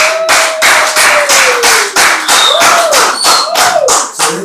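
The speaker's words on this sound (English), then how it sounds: "Round of applause for us" Loud, close rhythmic clapping on a Nigerian couples game show, sharp regular hand claps in a steady beat with a few whistle-like tones over them, continuing without talk.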